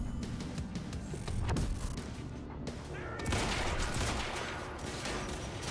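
Rapid sniper and rifle gunfire from the Quantum Break video game, dense cracks and bursts running continuously near and loud through a dense combat mix, with a brief lull midway before the shooting resumes.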